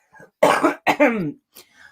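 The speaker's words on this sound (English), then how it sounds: "I'm gonna have a coughing fit now." A short burst of coughing: a couple of harsh, throaty coughs close by, followed by a faint trailing hack.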